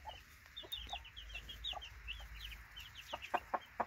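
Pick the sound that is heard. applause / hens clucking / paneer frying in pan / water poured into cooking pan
hens clucking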